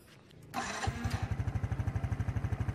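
A SYM Sport Rider 125i EFI motorcycle starts with a brief starter whir, then its engine catches and settles into a steady, pulsing idle, close and clear with no talking.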